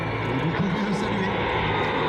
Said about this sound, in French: L'Atlas ralentit jusqu'à environ 115 nœuds, 210 km/h, pour effectuer devant vous une approche type grande pente.